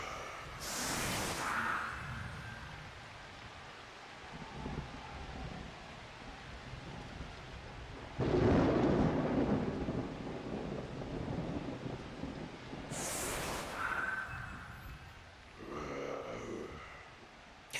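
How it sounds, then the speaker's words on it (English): Rain and thunder ambience from the video game Blood Bowl II: a steady wash of rainfall under several rolling thunder cracks, loud bursts near the start, middle and end, with no talking. "I'm really digging the rain noise."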